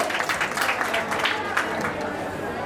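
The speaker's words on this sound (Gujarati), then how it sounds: "હું અભિનંદન કરે જોરદાર તાળીઓની સાથે" A crowd claps in loud, dense applause at a school annual function prize distribution, while a voice briefly carries over the clapping.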